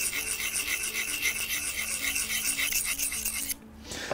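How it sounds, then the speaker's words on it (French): A wet sharpening stone rubs along the blade of pruning shears in steady, close rasping strokes that run almost continuously before a short pause near the end. "comme la pierre est mouillée, ça dépose un peu d'abrasif sur le fil de la lame"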